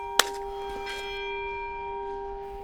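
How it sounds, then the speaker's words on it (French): A single church bell struck once to summon a village tribe after a cyclone, a sharp clang whose pure tone rings on and fades slowly, moderately close amid quiet outdoor background. "Les autres, ils viennent de sonner la cloche pour que toute la tribu descende en bas"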